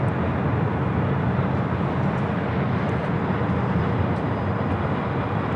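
An airliner departing LAX toward Seoul produces a steady, loud broadband jet roar, sustained throughout without letup.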